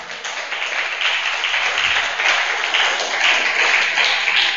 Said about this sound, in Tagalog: Parang hina na palakpak.